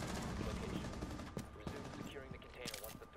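Rapid gunfire bursts crackle through a round of Rainbow Six Siege, loud and dense, with sharp single shots and clattering mechanisms near the end.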